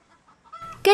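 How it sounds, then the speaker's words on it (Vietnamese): Chickens raised beneath a cinnamon forest canopy give a brief, close burst of clucking at the very end of an otherwise near-silent moment. "Kết hợp mô hình nuôi gà dưới tán rừng quế"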